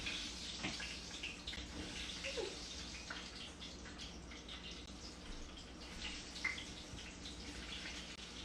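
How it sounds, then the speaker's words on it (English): Plantain slices frying in a hot pan for tostones, a faint continuous hiss of oil that holds steady throughout. "we're going to put our plátanos in so we can make our tostones"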